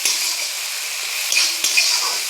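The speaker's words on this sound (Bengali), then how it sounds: "পেঁয়াজের সাথে খুব ভালোভাবে মিশিয়ে নিচ্ছি।" Ginger-garlic-tomato paste and onions sizzle loudly in a pan as a utensil stirs them, with a couple of brief scraping strokes over the continuous frying; no talking.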